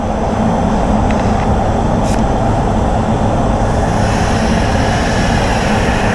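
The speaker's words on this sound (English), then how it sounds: "Get this air blower. I love this one, man. It really pumps a nice volume of air over the panels." A powerful air blower drives a steady, loud, close rush of air across the freshly painted front panels of a silver metallic Honda Jazz. The broadband roar holds unbroken, with no talk.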